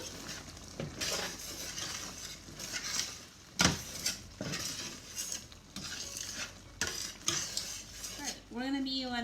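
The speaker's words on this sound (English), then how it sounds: "I'm going to stir this quick before it starts to stick to the bottom." Spoon stirring leftover soup in a pot at a boil, with repeated scraping and clinking strokes against the metal, close and fairly loud, in uneven bursts over a low bubbling background.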